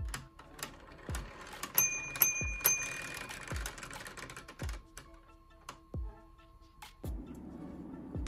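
A 3D-printed cup noodle timer, driven by the cup's weight through a clock mechanism, ticks softly in a steady beat, then strikes its small bell with clear metallic rings.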